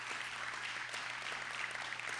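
An audience at a school program of studies night applauds the staff, producing soft, steady clapping heard faintly from a distance with no talking over it.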